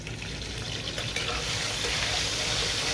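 Doubanjiang bean paste frying in a hot wok gives a dense, continuous sizzle with bright crackling and faint scraping, close and steady throughout.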